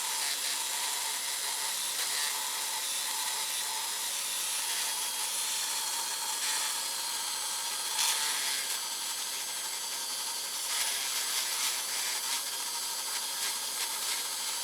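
A wire brush spun on a rotary tool scrubs rust off the metal of a Singer 66 Red Eye sewing machine, giving a continuous close, bright hissing scour with slight surges and no talking.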